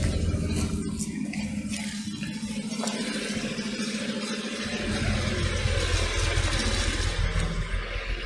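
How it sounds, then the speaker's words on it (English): Heavy construction machinery runs steadily beside a cemetery in Bay St Louis, Mississippi, a loud continuous low engine drone with clanking texture that swells slightly louder partway through, with no talking over it. "There is some construction going on behind me"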